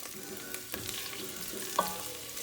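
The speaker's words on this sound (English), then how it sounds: "All right, so the oil is hot enough, and I'm gonna go ahead and saute my shallots." Shallots saute in hot oil in a soup pot, giving a quiet, steady crackling sizzle with faint stirring scrapes and one brief clink near the end.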